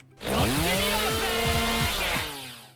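Spinning saw skill attack in the video game Honey Piece, a loud, steady buzzing whir of a rotating blade with a revving engine-like drone that holds for about two seconds before fading.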